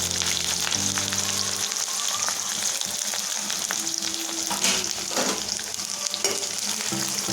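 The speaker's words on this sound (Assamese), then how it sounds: "এতিয়া মই এইখিনি ভাল ধৰণে লৰাই লৰাই 3 মিনিটমান সময় ভাজিম" Coarsely chopped onions sizzle steadily in hot oil as they are stirred, with scraping and spoon movement adding texture to the constant close, loud frying hiss; no one speaks.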